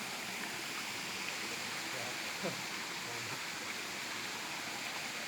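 A mountain stream and waterfall send up a steady, broad rushing roar that fills the whole scene, with a faint voice barely showing beneath the constant water noise.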